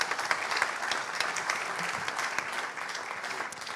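An audience at a French conference on local energy and communities applauds, an even, continuous patter of many hands clapping at moderate distance, without a break.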